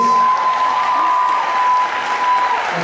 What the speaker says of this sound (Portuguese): Vamos dar uma salva de palmas para o Maurício.